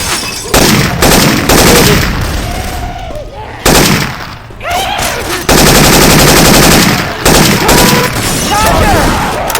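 Syphon Filter weapon sound effects swapped into Left 4 Dead 2, loud rapid automatic gunfire in long sustained bursts with short pauses between, close and dominant over faint game chatter.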